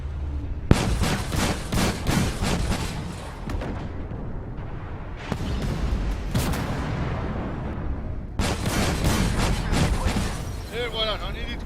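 Tank cannon and automatic gunfire in a video game featuring the Begleitpanzer 57, loud bursts of rapid shots in several clusters with pauses between, a voice talking over parts of it.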